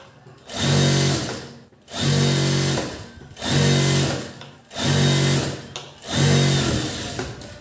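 Five loud bursts of a sewing machine stitching a blouse seam, each running about a second with a steady mechanical whir, separated by short pauses.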